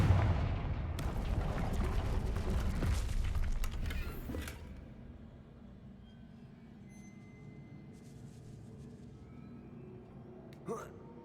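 Fiery spell explosions in a video game, a heavy blast-like roar building through the first few seconds and then fading into low rumbling ambience, with one sharp crack near the end.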